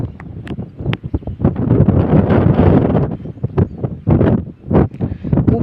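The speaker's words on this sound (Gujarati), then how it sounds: "ઉપર એક બહુ પવન હાલે ગાઈસ એકદમ." Strong gusty wind buffets the microphone on a hilltop during rain, rising and falling in loud rough bursts with a few sharp knocks and no clear speech.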